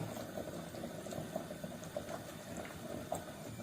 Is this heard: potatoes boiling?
yes